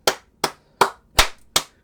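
Five sharp hand claps at an even, unhurried pace, each a crisp broadband smack with a quick decay, close and clear with no talking.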